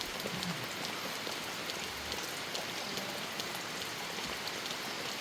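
Steady rain falls on a rural garden in a continuous, even hiss with no pauses, close and moderately loud, with no voices.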